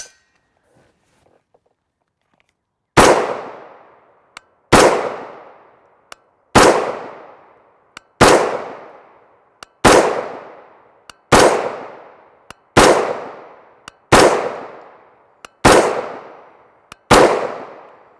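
A 5.56 rifle with an adjustable gas block fires Black Hills 77gr OTM ammunition: ten loud, sharp outdoor shots at an even pace of about one every one and a half seconds, each decaying quickly, after a quiet start.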